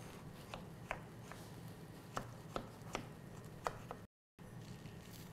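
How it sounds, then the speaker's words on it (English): A knife slices a small cucumber in half lengthwise on a board, giving a few quiet, separate crisp cuts and taps spaced irregularly over a faint steady background hum, with a short silent break near the end. "I have 1 small cucumber here. I'm just going to cut that in half lengthwise."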